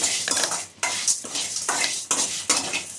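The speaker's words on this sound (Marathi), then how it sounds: "हलकं भाजून घ्यायचं जास्त काही भाजायचं नाही" Spices are lightly roasted in a metal kadhai for jackfruit biryani masala, with a spoon scraping and clanking in rhythmic stirring strokes about every half second, loud and close, under a faint dry crackle, with no talking.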